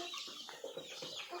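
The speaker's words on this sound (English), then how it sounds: "it's a sick chicken from yesterday" A sick chicken, a rooster, gives a short run of soft, close clucks and murmurs, faint and alone without talk.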